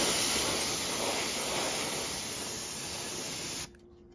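Spray cleaner hisses steadily from a nozzle onto model locomotives for about three and a half seconds, a close, loud continuous spray that stops abruptly near the end, leaving only faint room tone.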